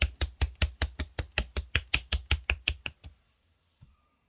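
A hand claps against a chest about fifteen times in a quick, steady rhythm, each slap sharp and close, before stopping abruptly and leaving near silence with one soft tap.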